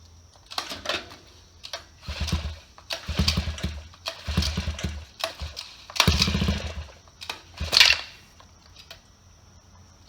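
Someone repeatedly yanks the pull cord on a Phantom Bikes Ghost Classic small bicycle engine, giving a series of uneven, close bursts of rattling cranking that never catch into a steady run.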